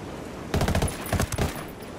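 Mark 18 battle rifle fire in the video game Ghost Recon Wildlands, two short loud bursts of rapid shots about half a second apart.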